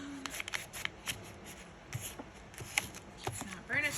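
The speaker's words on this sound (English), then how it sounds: "Line that up in the fold. Burnish it down." Paper being burnished down along a fold while making grungy art freebies, a series of soft, close rubbing and brushing swipes in short bursts with small pauses between them.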